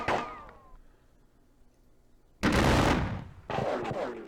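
Gunfire in a Civil War battle game depicting the Battle of Perryville, a fading volley at the start, a quiet pause, then two loud close bursts of crackling musket fire with booming rumble.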